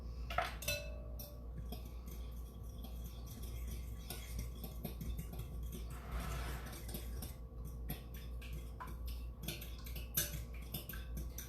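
French toast batter with a tablespoon of vanilla being mixed in a bowl, light clinking and scraping ticks of a utensil against the dish repeating unevenly, quiet and close, no talking.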